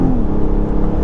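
A 2020 BMW X3 M40i accelerates from about 100 km/h with all-wheel drive, a steady loud engine drone with rising whine heard from inside the cabin, no talking.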